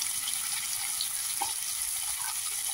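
Green beans fry with potatoes and other winter vegetables in a pan, giving a constant, even sizzle with a faint stirring scrape partway through.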